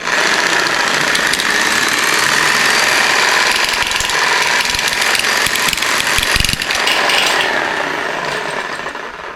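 A clamped bottle of Cerakote coating rattles on a motorized paint shaker, a loud, continuous mechanical buzzing and whirring that runs steadily and fades slightly at the end.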